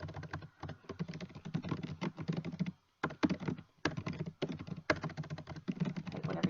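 Rapid clicky typing on a computer keyboard, close and continuous in clustered runs with brief pauses, no voice.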